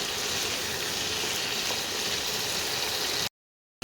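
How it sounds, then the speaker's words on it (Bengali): Mushrooms frying in oil with a little turmeric in a pan: a steady, dense sizzle and crackle holding even and close throughout, then cutting off abruptly into silence near the end. "অল্প করে একটু ভেজে নেব।"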